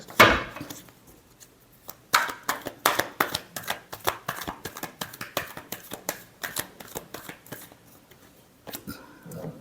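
A deck of tarot cards gets shuffled by hand in a fast, rhythmic run of crisp papery slaps and riffles lasting several seconds, close and fairly loud, then tapering off with a few final taps.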